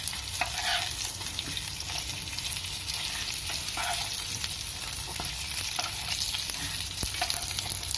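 Chicken garlic fingers, some coated in semolina, sizzle steadily in hot oil in a pan, a continuous bright crackle with occasional stirring clicks, close and on its own with no talking.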